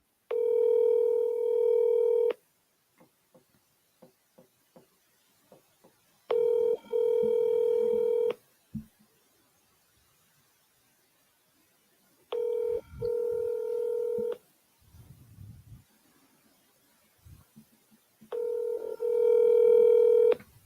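Telephone tones while calling back a property seller: four long steady ringback tones with short beeps between them, clear and alone with faint background noise.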